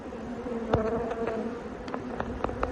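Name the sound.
honeybees buzzing on hive frame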